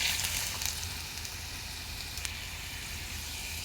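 Ground cumin and garlic paste for beef curry fries in a pan with a steady, soft sizzle, fairly quiet, and one faint clink partway through.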